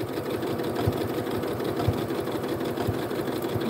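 A Janome sewing machine stitching a blanket stitch, running steadily with a rhythmic mechanical thump about once per second under a continuous motor whir, close and clear.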